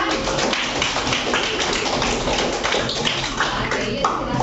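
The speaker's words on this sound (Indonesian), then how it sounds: "Oke, tepuk tangan dong buat kelompok 2." A school classroom applauds a student group after their history presentation, a continuous, busy clatter of many hands clapping close by, with murmured voices mixed in.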